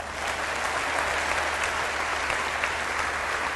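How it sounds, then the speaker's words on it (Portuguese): Loud, continuous applause from a large church audience at an evangelical event, cheering on Bolivia, with many hands clapping evenly throughout and no one talking. "E um aplauso especial para Bolívia."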